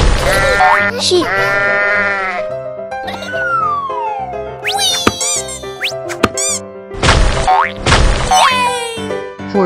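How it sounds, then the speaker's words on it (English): Cartoon sheep in a children's animal painting game bleat in drawn-out wavering calls mixed with playful boing sound effects and light music. "Sheep."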